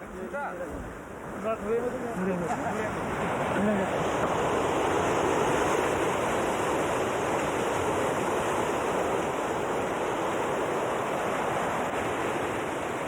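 Cold winter sea surf breaking at a sacred shore, a steady broad wash of waves that swells after a short quieter opening and then holds loud and continuous, with a faint voice near the start.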